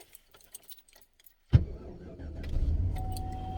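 Keys jingle faintly, then a car engine cranks and catches in cold weather with a sharp burst, settling into a low rough idle that grows slightly louder.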